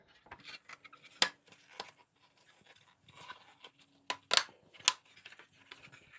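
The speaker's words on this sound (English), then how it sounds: "you can just click them right in" Plastic exhaust trim pieces being clicked into place on a Mercedes A45 AMG rear diffuser, a series of sharp, close snaps and clicks at irregular intervals between quieter handling rustles.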